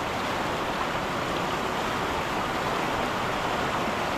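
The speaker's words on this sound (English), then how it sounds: "Pretty impressive waterfall up there." A big waterfall on a river roars with a steady, dense broadband rush that stays constant and loud throughout, with no other sounds standing out.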